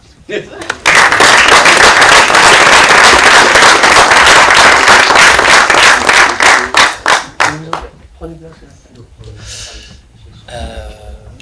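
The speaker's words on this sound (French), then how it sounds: "Je peux les applaudir." A crowd bursts into loud, sustained applause that thins into scattered claps, followed by a few indistinct voices.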